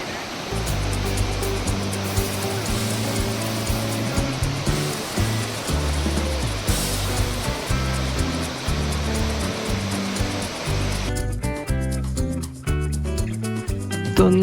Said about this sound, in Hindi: ये खूबसूरत सुंदर स्वच्छ पानी से बहती हुई नदी